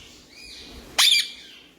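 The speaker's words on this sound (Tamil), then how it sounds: "அந்த மயில் சவுண்டு கொடுக்குறான்" A peacock gives a single loud, sharp call lasting about a quarter second, standing out clearly after a quiet stretch of faint background noise around a home where parrots are kept.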